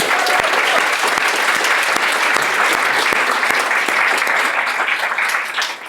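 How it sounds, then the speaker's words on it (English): Sustained applause from a conference audience for keynote speakers and workshop facilitators at the opening of the LonTAC26 event, a dense, even roar of many hands clapping that holds steady and eases slightly at the end. "I'd like you to also give a round of applause for our keynote speakers and the workshop facilitators."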